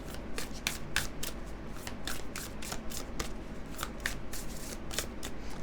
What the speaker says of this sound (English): Let's draw you another oracle card.